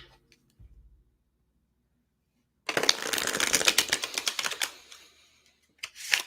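Tarot cards riffled and shuffled in a brisk, loud burst of papery flutter lasting a couple of seconds, followed by a short pause and a few sharp clicks as a card is pulled, with near silence before.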